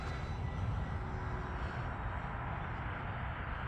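E-flite P-51D Mustang RC model airplane flying on a winter day, its steady electric motor drone holding constant and fairly faint, with broad wind-like noise and no talk.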